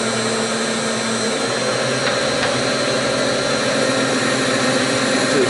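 A machine cuts a metal part for a 2011 Jeep JKU link build, giving a loud, steady whirring grind that holds without a break. No one speaks.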